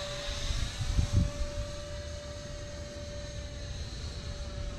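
3D printed Mirage 2000 RC jet flying, a thin steady electric whine holding a constant pitch, moderately distant, with brief low thumps of handling noise early on.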